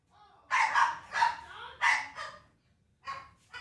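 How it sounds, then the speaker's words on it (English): A big dog barks several times in close succession, loud and near, with a brief pause before a final pair of barks; no talk over it. "There's my big doggy."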